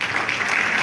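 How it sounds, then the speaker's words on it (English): Audience applause at an annual convocation ceremony at a school in Sirsa, a steady dense patter of many hands clapping at moderate volume, with no talk over it. "he does require a round of applause"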